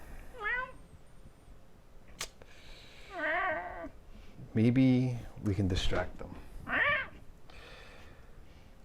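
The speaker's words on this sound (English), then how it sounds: "Do you hear a cat?" A cat meows several times in a night scene during a fantasy role-play game session, drawn-out rising and falling calls close by, alternating with people talking.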